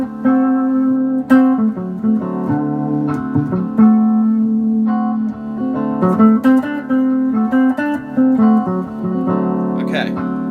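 A guitar picks out the 1, 3, 5 and flat 7 chord tones of a Mixolydian chord as a steady run of single plucked notes that ring into one another, close and clear with no voice over them.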